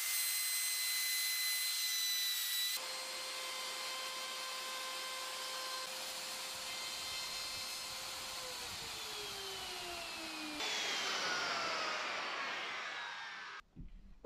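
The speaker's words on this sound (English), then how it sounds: "the router bit that I was using was struggling to get through there" An Erbauer ER2100 router cuts a dado along a straight edge, a loud, steady high-pitched whine whose pitch sags as the bit struggles through the wood, then rises sharply before the motor cuts off.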